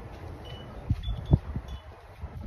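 Wind blows through a home yard garden with flowering plants, giving a low, uneven rumble and gusting buffets against the microphone, faint and steady with no talking.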